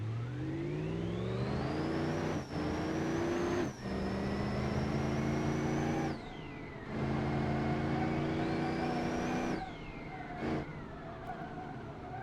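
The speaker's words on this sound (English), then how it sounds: "I love the V8 turbo noise." A V8 turbo car engine in a driving video game revs hard and repeatedly, its pitch climbing steeply through each gear before brief cuts and drops, loud and continuous with no talking.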